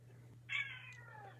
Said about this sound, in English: Stitch, if I hear you meow one more time